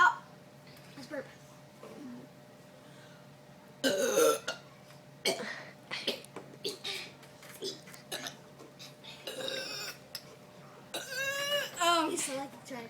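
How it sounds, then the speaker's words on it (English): Repeated loud burps after chugging Pepsi during a burp contest, several bursts spread across the stretch, mixed with coughs and laughter-like sounds and people talking between them. "Let's burp."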